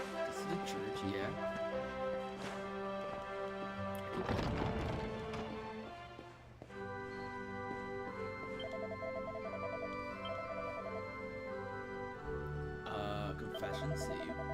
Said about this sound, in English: There's so many horses.